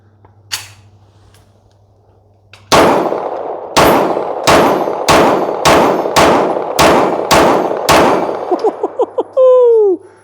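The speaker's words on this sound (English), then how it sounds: "Hopefully it shoots the way the old one did, but we're gonna find out." An Archon Type B Gen 2 pistol fires a string of about eight loud, sharp shots in a steady rhythm, each with a ringing metallic tail, followed by a few fainter clinks.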